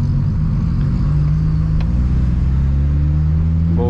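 A VW Gol G2 engine revs loudly and close up, a deep continuous rumbling drone rising and falling in pitch across the few seconds.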